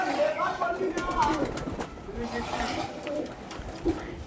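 Pigeons cooing close by in a pigeon loft, several soft repeated coos overlapping, with someone talking over them.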